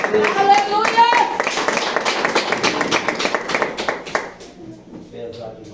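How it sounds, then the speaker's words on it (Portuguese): A church congregation claps in a quick, steady burst that fades out after a few seconds, with Portuguese voices mixed in. "dá uma salva de palmas para Jesus"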